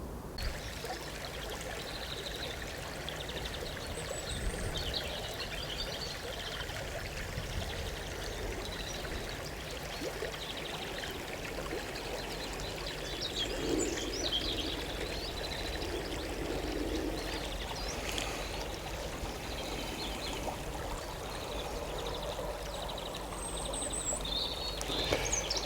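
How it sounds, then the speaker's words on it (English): A small stream flowing during a walk near Louth, a continuous close babble and trickle of water with occasional birdsong in the background, no voices. "It's hard to believe that this beautiful little stream floods."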